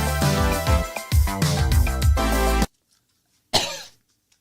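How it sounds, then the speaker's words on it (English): A short, harsh cough bursts out alone after a loud stretch of music and a moment of silence, coming from someone who has just puffed on a fake cigarette. "How am I coughing? It's not even a real cigarette."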